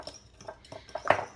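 Dark chocolate chips stirred into thick waffle batter in a bowl, a few soft scrapes and utensil clinks building to a sharper clatter near the end, close and fairly quiet with no voices.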